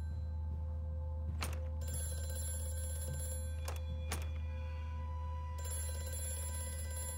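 A telephone rings in the horror video game Amnesia: A Machine For Pigs, several sharp bursts of ringing over a low droning hum, with no talk.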